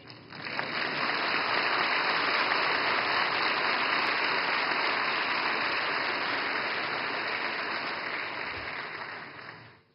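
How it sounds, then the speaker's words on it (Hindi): An audience claps at the Reserve Bank of India's 90th anniversary ceremony, a steady, even wash of applause that swells quickly, holds for several seconds and fades out toward the end, with no voices over it. "मुझे खुशी है कि सबसे ज्यादा तालियां इस बात पर पड़ी"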